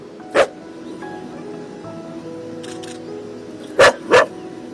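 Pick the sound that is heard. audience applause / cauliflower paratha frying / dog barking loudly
dog barking loudly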